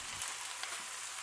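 Seafood fried rice being stir-fried with scrambled eggs stirred back in, giving a soft, steady sizzling hiss that stays even and fairly quiet throughout, with no voices.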